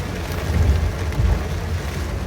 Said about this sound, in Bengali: বৃষ্টির গতিবেগ আরও বাড়তেছে